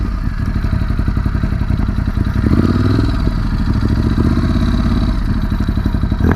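A 2019 Ducati Scrambler 1100 runs steadily close by, its twin engine giving a loud, throbbing, mechanical clatter that holds constant throughout with a slight lift in the middle, and no voices over it.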